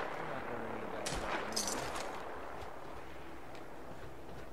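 Gunfire in the video game Fallout 4, heard as a couple of muffled shots early on over a constant hissing rumble, then fading into steady background noise.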